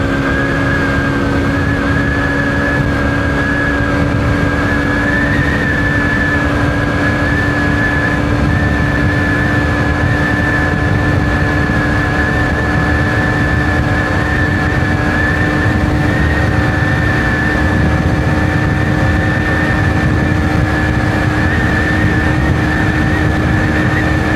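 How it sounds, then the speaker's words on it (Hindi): A Hero Glamour X 125 motorcycle engine held at high revs drones loudly and steadily on the rev limiter near 112, with a constant buzzing tone and no pauses. "112 पे लिमिटर मार रही है बाइक।"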